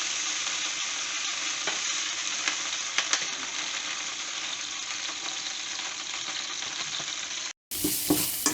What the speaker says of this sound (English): faire revenir les oignons